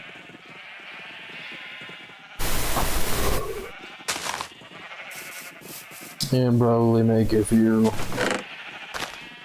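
Minecraft sheep bleating in a survival world, several wavering bleats, the loudest near the end, mixed with someone talking and rustling game sounds.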